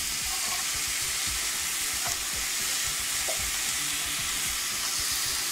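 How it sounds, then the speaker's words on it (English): Browned ground beef mixed with canned cream of celery soup is stirred in a hot pan for a homemade hamburger skillet dish, giving a steady close sizzle with soft spoon scrapes throughout. "what we're going to do is give it a simple stir"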